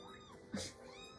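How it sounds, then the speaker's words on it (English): A cat gives one short, faint meow over steady video game music and effects. "Kitty."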